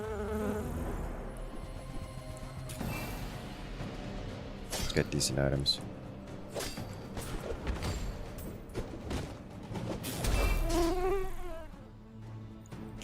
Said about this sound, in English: I think we go Dire Mosquito here.